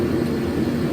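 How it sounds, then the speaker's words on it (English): A salamander heater runs steadily in a workshop, giving a continuous low roaring whir at a constant level with no pauses. "I've got my salamander heater running."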